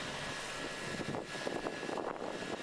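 A snow blower runs steadily while clearing fresh snow from a soft, muddy lawn, its broad engine and rushing drone fairly faint and continuous, with no talk.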